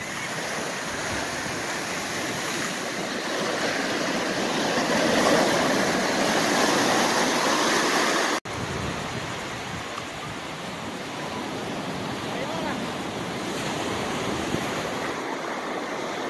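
Ocean surf at Bethune Beach, Florida: a continuous wash of breaking waves, loud and broadband, with a brief cut midway and no voices.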